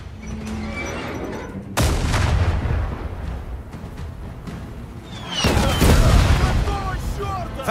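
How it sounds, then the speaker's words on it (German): Explosions and heavy gunfire in the Last Train Home video game, with a loud blast near two seconds and another big burst of booming fire past five seconds, over a constant rumble of battle. "Was für eine Explosion!"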